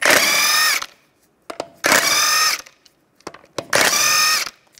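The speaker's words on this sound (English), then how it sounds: "Take the lug nuts off." Three bursts from a power tool spinning wheel lug nuts off a 2007-2013 Mini Cooper with a 17 mm socket, each a high whirring whine of about a second, close and loud, separated by short clicks and quiet gaps.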